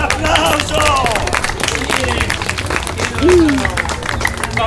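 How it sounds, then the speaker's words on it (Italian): Audience applause and crowd noise at an outdoor medieval Camelot-themed show in Celle Ligure, with steady loud clapping and cheering blended with shouting and babble throughout. "Un applauso! Un applauso!"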